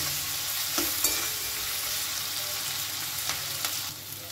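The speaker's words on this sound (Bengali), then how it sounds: "যতক্ষণ না পর্যন্ত আদা রসুনের কাঁচা গন্ধটা চলে যায় ততক্ষণ এটাকে একটু আমি নেড়ে নেড়ে ভেজে নেব।" Ginger and garlic stir-fried in a pan, a steady oily sizzle running throughout with a few soft scrapes of the spoon standing out near the start and again toward the end; no voices.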